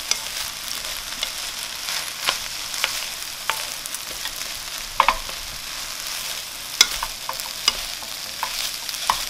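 Shrimp fried rice sizzles steadily in a pan while a utensil scrapes and stirs it, with sharp clinks and scraping accents over a constant frying hiss, close and alone without talk.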